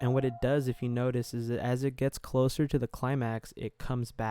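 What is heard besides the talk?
None of the usual background noises is heard.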